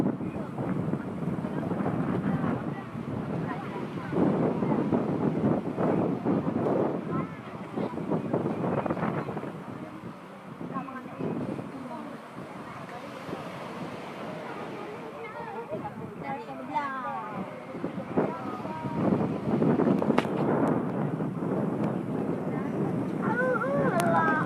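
Gusty wind buffets the microphone on the beach at Lancok, North Aceh, with a steady rush of surf and waves underneath, loud and continuous, as voices talk intermittently over it.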